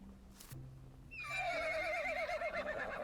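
Horse in the Rising World video game gives a loud, wavering whinny lasting a couple of seconds, preceded by a brief rustle and low hum.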